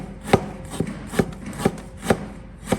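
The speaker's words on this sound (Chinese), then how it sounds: "我给它切起来，切点葱姜" A knife chops ginger and scallions on a cutting board in about six steady, evenly spaced thuds, close and moderately loud, with faint scraping between strikes.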